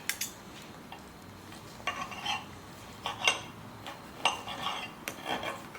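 Knife cutting thin slices of cooked turkey on a board for a gyro, giving a series of light scraping and tapping strokes at an uneven rhythm, close and fairly quiet, with no talking.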